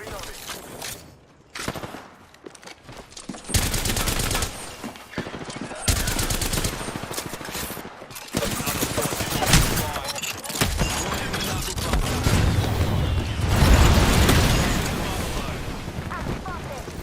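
Video game gunfire in a battle match crackles in repeated bursts and rapid volleys, loud and close, with brief gaps between bursts and game voice lines and talk layered over the shooting.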